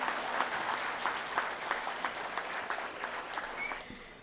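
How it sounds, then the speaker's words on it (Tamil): Clapping from an audience at a Tamil public speech, a fairly faint, even patter of many hands that thins slightly toward the end, heard alone without talk. "என்ன உங்கள் ஊரில் கைத்தட்டல் இவ்வளவுதானா?"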